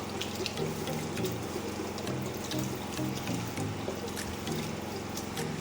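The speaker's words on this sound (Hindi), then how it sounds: "मैं यहाँ अंदाज़न पानी डाल रही हूँ।" Water pours steadily into a cooking pot in a continuous splashing trickle, fairly quiet and close, with a faint low hum underneath, while making yellow masala rice.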